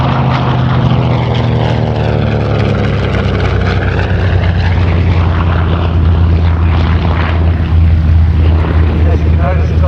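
A vintage propeller warplane flying past at an air show, a loud continuous droning engine roar with a shifting pitch as it passes, filling the whole stretch.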